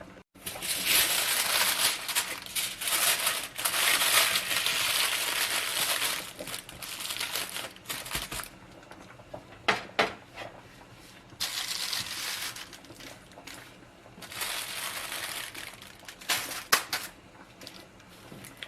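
Aluminium foil being crinkled and handled up close in a kitchen while making pork tenderloin, with bursts of loud crackling rustle separated by quieter pauses and scattered sharp crinkles.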